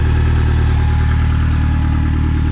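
A 1996 Toyota Camry engine fresh from a minor tune-up and distributor o-ring fix runs close and loud with a steady, even idle hum, alone without voices.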